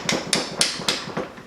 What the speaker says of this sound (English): So now we're getting to the point to where our chisel is actually bottoming out